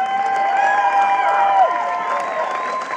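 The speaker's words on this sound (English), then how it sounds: "Keep the applause going, give her a huge big cheer as she makes her way up on the stage" A crowd welcomes Shauna Ray Lacey home in Carlow with applause and cheering. The sound is steady and moderately loud, a sustained wash of clapping and raised voices with no single voice standing out.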